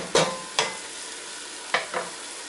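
Greek meat sauce browning in a pan while being stirred, four distinct utensil scrapes and knocks against the pan over a faint steady sizzle, close and fairly loud, with no one talking.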